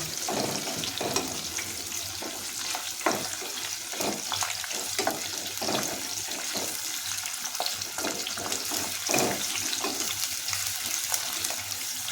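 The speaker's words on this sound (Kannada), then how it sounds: "ಕಟ್ ಮಾಡ್ಕೊಂಡಿರುವಂತಹ ಒಂದು ಈರುಳ್ಳಿನ ಸೇರಿಸ್ಕೊಂಡು ಅದನ್ನು ಸಹ ಇಲ್ಲಿ ಫ್ರೈ ಮಾಡ್ತಾ ಇದ್ದೀನಿ" Chopped onion and cashews frying in a pan for an aloo rice bath, giving a constant low sizzle with intermittent stirring scrapes, fairly quiet and without talk.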